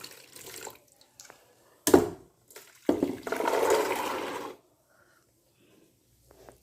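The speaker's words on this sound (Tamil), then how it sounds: "குக்கர் பாத்திரத்தில் அவிச்சு வச்சுருக்க கடலையை இதில் கொட்டுவோம்" Boiled black chickpeas tipped from a pressure-cooker vessel into a pot on the stove: a short clatter, then a wetter pour lasting about a second and a half, close by, followed by quiet.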